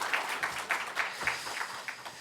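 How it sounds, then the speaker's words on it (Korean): A congregation at a Sunday church service claps to welcome a new youth ministry evangelist, a brief, moderately quiet patter of many hands in a hall with no talk over it. "박수하겠습니다."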